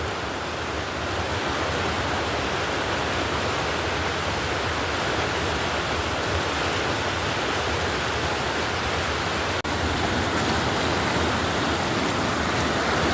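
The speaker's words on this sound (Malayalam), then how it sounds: "നമ്മുടെ അവിടെ മലവെള്ളം വന്നതാണ് കേട്ടോ നമ്മുടെ പുഴയിൽ" A river swollen by a flash flood of hill runoff rushes with a powerful, unbroken roar, loud and close, steady across the whole stretch with no voices.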